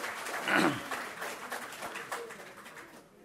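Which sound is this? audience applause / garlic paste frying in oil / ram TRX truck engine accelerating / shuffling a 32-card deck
audience applause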